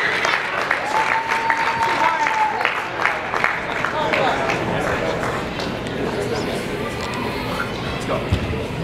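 Loud, sustained applause and cheering from a crowd at a junior team karate kumite sparring match, a dense clapping roar with talk on top throughout.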